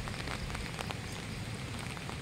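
Heavy rain hisses and patters steadily on surfaces during strong winds, a dense, close, unbroken wash of drops with no voices.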